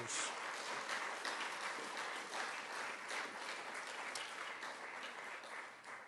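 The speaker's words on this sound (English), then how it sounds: "Let's give one more round of applause for our cumulative legacy and 75-year breeders." Banquet audience applauding horse breeders at an American Quarter Horse Association event: a dense, sustained round of clapping from a large room, even and continuous for about six seconds, heard at a distance and fairly soft.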